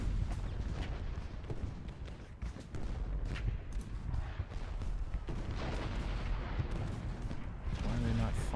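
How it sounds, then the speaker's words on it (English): Artillery firing in the Civil War battle game Ultimate General: Gettysburg, with steady dense booms and crackling gunfire rolling throughout under a constant battlefield din, voices faintly mixed in. "The artillery reserves are firing"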